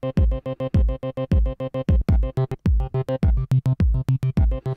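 Pad sample triggered in Ableton Simpler, played as a steady rhythmic run of about thirty short chord stabs with sharp attacks and quick decays, loud and close with no voice.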